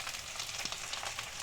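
Capsicum sizzles in hot oil in a home kitchen pan for fried rice, giving a steady, dense hiss with no voices over it.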